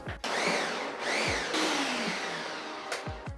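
A blender quickly mixes a batch of pineapple habanero hot sauce, its motor whining loud and close in short bursts that rise and fall in pitch with brief pauses between pulses.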